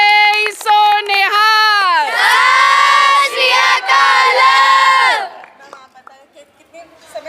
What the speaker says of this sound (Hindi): एक जयकारा हमारी मैडम के लिए। बोले सो निहाल।